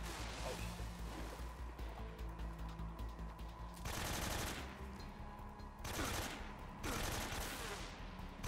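Shotgun fire in the video game Metal Gear Solid 3 comes as repeated loud blasts, steady pulsing fire with heavier bursts at intervals over a dense, continuous game soundscape.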